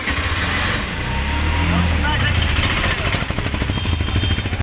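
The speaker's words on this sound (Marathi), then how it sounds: "आता आम्ही रिक्षात बसून गंगा आरतीसाठी चाललोय" Auto-rickshaw ride in Haridwar: a sputtering small engine putters steadily with rattling and street noise, loud and close, with voices talking over it.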